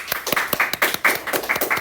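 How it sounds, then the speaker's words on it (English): A small group claps briskly, sharp overlapping claps in a lively burst of applause, close by with no talking. "round of applause"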